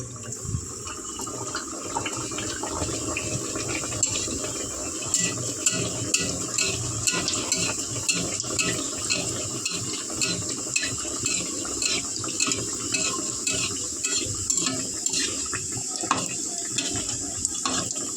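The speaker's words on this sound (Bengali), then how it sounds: "আমার তেলটা গরম হয়ে গেছে একটা করে ছেড়ে দিচ্ছি" Chicken patties sizzling as they drop one at a time into hot oil, a steady dense crackle and hiss that continues close by without pause, with no talking.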